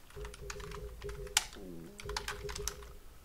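Keystrokes on a computer keyboard as a command to start a text expander is typed on Linux, a quick uneven run of clicks and taps with one louder key press near the middle, close and moderately quiet over a faint hum.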